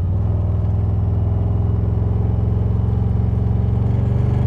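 A Harley motorcycle cruises along a road, its engine giving a constant loud, low rumble with steady wind noise throughout and no talk.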